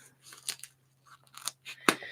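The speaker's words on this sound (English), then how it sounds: "I need scissors now." A few short, crisp snips of scissors cutting, spaced irregularly in a quiet room, one sharper cut near the end.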